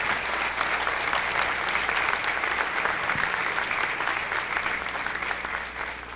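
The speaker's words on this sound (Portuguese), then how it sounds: "mais uma vez uma grande salva de palmas para o nosso padre." Dense, sustained applause from a large audience at the opening ceremony of an international congress, honoring a priest; steady and full throughout, with no voices.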